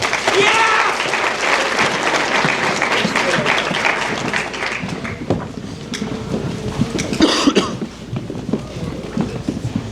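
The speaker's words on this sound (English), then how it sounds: "Let's give these guys one more round of applause." Audience applause at a high school athletic banquet, a steady wash of many hands clapping that fills the room, tapering slightly toward the end with scattered cheers.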